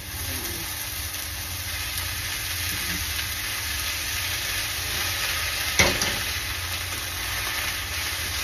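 Ginataang laing with mung beans simmers and sizzles in a pot with a steady hiss, with one sharp scrape of stirring standing out near the end.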